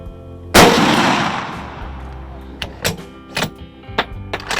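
A rifle fires at a steel target 100 yards off: one loud, sharp shot rings out and trails away, followed by several fainter clicks and knocks close by.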